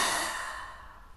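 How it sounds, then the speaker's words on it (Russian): A single sharp, breathy exhalation from a person during a breathing exercise, close and forceful at first, then tapering off into quiet. "Резкий выдох."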